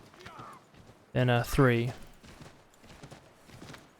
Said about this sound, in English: I'm trying to spur my horse and it's rejecting my commands a little bit